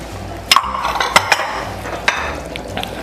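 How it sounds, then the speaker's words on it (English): A spoon stirs lasagna soup in a pot, giving several light, sharp clinks and scrapes spaced irregularly against a quiet kitchen background. "We're going to give it a good stir."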